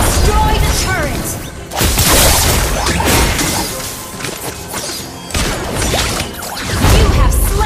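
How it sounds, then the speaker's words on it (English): Turret structure smashed and destroyed during a Mobile Legends match, with booming crashes and whooshing skill effects layered over dense battle noise, game announcer voice lines and talk throughout. "You destroy the turret!"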